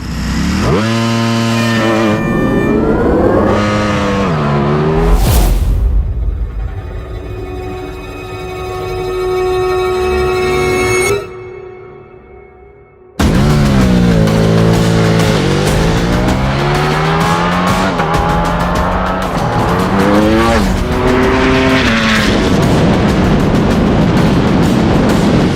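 A Ducati superbike races a Lucid Air Sapphire electric car: a loud, close engine climbs through rising revs and gear shifts, sweeps past, drops to a fainter whine, then roars back at full throttle.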